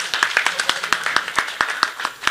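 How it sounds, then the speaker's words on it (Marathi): A small crowd at a devotional keertan gathering claps together in a brisk, even run of about a dozen sharp hand claps, close and loud, with no talking over them. "त्यांच्या जोरदार टाळ्या होऊ द्या."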